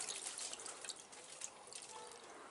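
Coolant trickles from a container into a car radiator in a workshop, a faint, thin, splashy stream with small drips that runs continuously, quiet and close with no speech.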